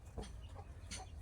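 A hen with her newly hatched chicks on a Philippine backyard farm gives a few soft, brief clucks close by over low background noise.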